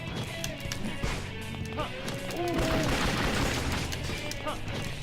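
Gunfire in a video game clatters as dense, rapid bursts under a steady wash of game noise, with a voice talking over parts of it.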